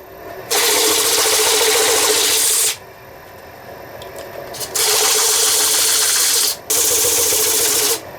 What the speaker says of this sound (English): Sand that edge, did forget that before we part all the way through.